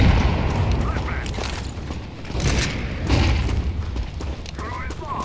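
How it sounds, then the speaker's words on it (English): A flashbang grenade goes off during a Counter-Strike 2 round, with dull booms and bursts layered over dense gameplay noise and a close, loud mix. "Flashbang."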